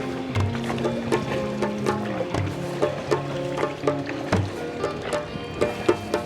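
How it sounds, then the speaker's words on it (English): An engineless wooden boat is pushed across a river in Senegal's mangroves with a long pole and a shovel, giving repeated knocking thuds and water splashes at an uneven rhythm close by. "There was no engine on this boat, so the guys were using a long stick and a shovel."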